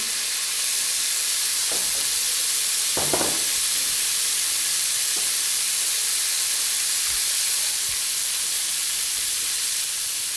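Boiled urad dal tipped into fried tomatoes in a hot pan gives a loud, continuous hissing sizzle, with a few clinks and scrapes of a spoon early on, no talk.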